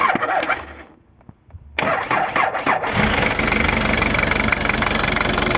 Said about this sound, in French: On va essayer de démarrer.